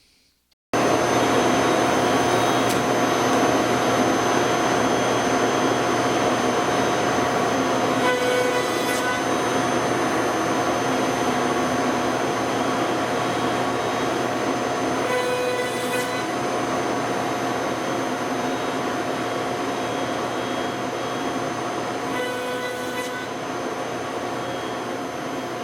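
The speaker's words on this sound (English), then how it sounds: "it's going to first cut the pin board using the dovetail bit" A CNC router fitted with a dovetail bit cuts the pin board of a half-blind dovetail joint, a loud, steady roaring whine running unbroken for the whole stretch with slight swells, and no voices.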